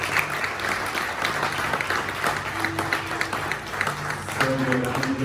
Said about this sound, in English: Come on, give her a hand.